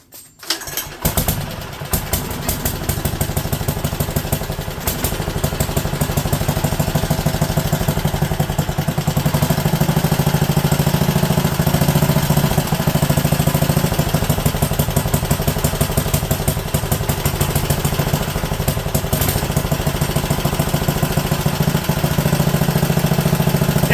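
A Wisconsin AENL engine with an updraft carburetor sputters to life after a brief cranking, then settles into a loud, steady close-up running chug with a slightly uneven beat for the rest of the stretch.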